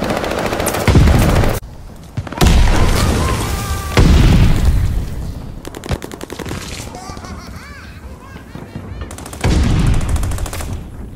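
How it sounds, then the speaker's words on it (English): Loud bursts of rapid gunfire and heavy booming blasts from a video game, several separate volleys with brief quieter gaps between. "What was that explosion?"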